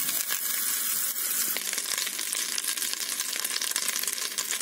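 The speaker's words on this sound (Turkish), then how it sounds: "Şimdi tereyağımı böyle tencereye attım. Tereyağımı güzelce eriteceğim." Butter melting in a hot pot for lamb kavurma with mushrooms, a steady close hiss and crackle of sizzling fat with small pops, with no voices.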